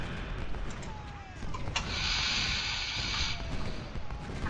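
Artillery fire in Ultimate General Civil War at Antietam, a few distant booming cannon shots with a rushing, hissing burst in the middle, set against a noisy battlefield backdrop.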